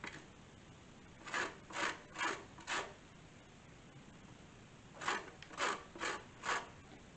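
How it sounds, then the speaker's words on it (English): Two limes being zested on a grater: two separate runs of four short, rhythmic rasping strokes each, fairly soft and close, with quiet pauses between and no talking. "So I'm just now going around in a circle and taking the zest off."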